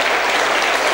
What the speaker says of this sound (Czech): to si zaslouží velký potlesk